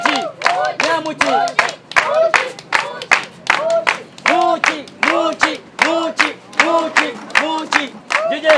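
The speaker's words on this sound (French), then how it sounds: "On applaudit pour Mouchi." An indoor audience applauds a performer, with dense rhythmic clapping and crowd cheers rising and falling loudly and close, some shouting voices mixed into the applause.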